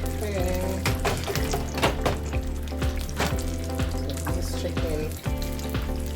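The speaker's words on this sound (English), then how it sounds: "when you're frying chicken and you cover your pot, you get a better frying chicken" Chicken fries in a covered pot with a loud, continuous crackling sizzle and dense popping spatter that holds steady throughout.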